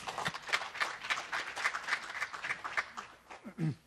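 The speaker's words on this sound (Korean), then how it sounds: "큰 박수로 박사님을 환영해 주시기 바랍니다" An audience at a Korean forestry outlook forum session in Yeouido breaks into dense, steady applause welcoming a forest research scientist to the podium. The clapping is close and sustained for a few seconds, with no talking.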